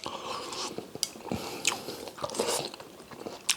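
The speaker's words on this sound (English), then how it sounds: "The baby sweet corn is still crunchy, crispy," Crunchy baby sweet corn is chewed with chicken noodle soup, giving crisp, close bites and wet crunches in an irregular rhythm.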